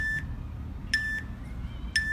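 Three short, high electronic beeps sound once per second, evenly spaced over a low background hum.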